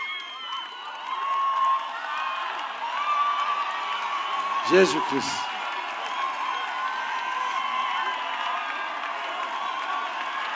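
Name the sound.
congregation clapping and cheering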